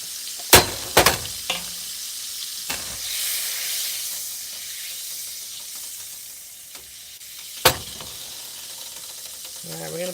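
Homemade cheese pierogies fry and sizzle in a pan with a soft continuous hiss, broken by a few sharp clacks of utensils and the pan, with a brief stretch of voice near the end.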